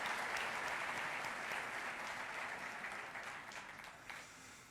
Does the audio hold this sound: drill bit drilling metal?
no